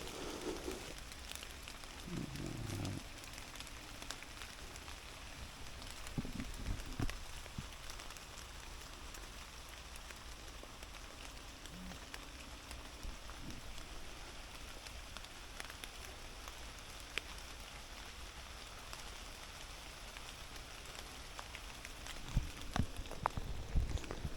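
Rain falls steadily in a Scottish forest, a faint continuous patter on leaves and ground with scattered sharper drip ticks and occasional soft thumps, no voices.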